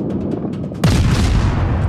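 Warship guns fire in the naval video game World of Warships, one sudden heavy boom followed by a long rolling rumble. Faint quieter sounds come before it.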